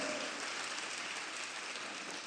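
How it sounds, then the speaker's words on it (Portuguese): A room full of people applauds after a training session on autism; the clapping is a steady, dense wash at low volume that holds across the whole stretch without any voices. "Mais uma vez, vamos aplaudir elas."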